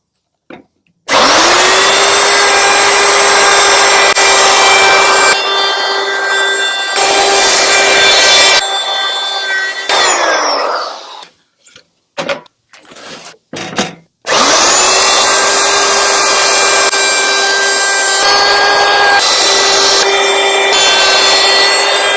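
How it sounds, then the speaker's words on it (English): A power router shaping wood edges for a drone landing pad and step: it spins up to a loud, steady, high whine and runs for several seconds, cuts out, gives a few short bursts, then runs steadily again. "So do some routing, probably."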